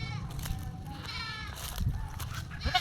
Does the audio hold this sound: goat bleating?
yes